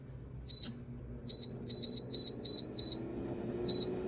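An air fryer beeping while it is set: a single short beep, then a quick series of six evenly spaced high electronic beeps and one more after a pause, over low kitchen background noise.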